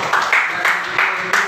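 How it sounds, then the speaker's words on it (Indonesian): Students in a classroom lesson applaud a team in a loud, rhythmic clapping pattern of evenly spaced hand claps, close to the listener, with voices faintly mixed in. "Silakan tepuk tangan."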